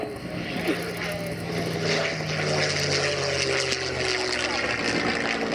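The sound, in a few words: Merlin V12 engines of P-51 Mustang and Spitfire flyby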